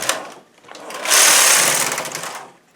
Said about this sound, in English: I'm going to go ahead and knit 22 rows